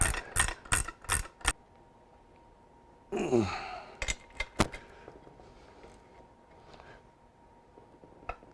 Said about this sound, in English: I'm just going to get them real good and snug with a ratchet.